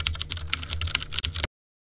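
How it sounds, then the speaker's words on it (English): Computer keys are tapped in a quick, uneven clatter of close clicks for about a second and a half, then silence. "Check your keyboard buttons."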